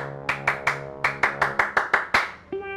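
Sharp, rhythmic hand claps in a Scout-style pattern, about ten crisp loud claps in quick succession close by, ending with a brief tonal sound.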